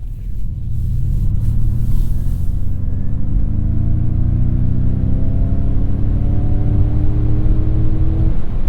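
A Ford Mustang Mach E in unbridled mode plays its synthetic engine sound while accelerating, a loud, steady rising whir and rumble that climbs continuously in pitch.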